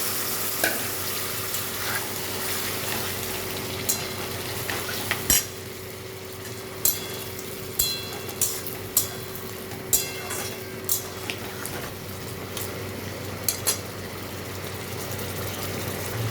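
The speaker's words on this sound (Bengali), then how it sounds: "মশলাটা হয়ে গেছে, তো এখন আমি এখানে সিদ্ধ করা লাউটা দিয়ে দিচ্ছি।" Boiled bottle gourd being stirred into spices frying with ginger and cumin in a wok, for a fish-head gourd curry; a steady low sizzle runs throughout, broken by periodic sharp clicks of a spatula against the pan.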